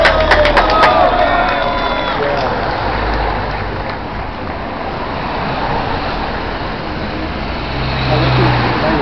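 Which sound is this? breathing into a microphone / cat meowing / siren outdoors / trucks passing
trucks passing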